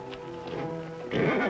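A horse is heard close by, snorting and shifting, then a louder burst near the end that sounds like a neigh or whinny, with no talking over it.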